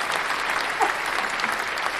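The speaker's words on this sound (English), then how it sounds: "let's give them a round of applause" An audience applauds, with continuous dense clapping from many people, steady and fairly close, with no speaking over it.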